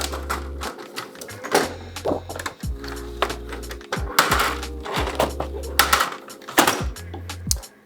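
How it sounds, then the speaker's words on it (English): Mechanical clicking and whirring with repeated low motor hums, a printer with white toner drawing in a sheet of decal paper and feeding it through in stop-start bursts. "Before I start printing, I just quickly insert my decal paper."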